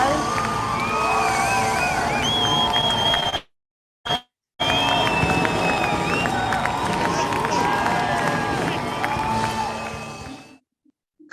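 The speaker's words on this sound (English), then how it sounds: "We can have an applause for all our winners." A crowd at the Digital Essay Competition 2021 prizegiving claps and cheers for the winners, loud and continuous with voices mixed in, then cuts out briefly before resuming and fading away.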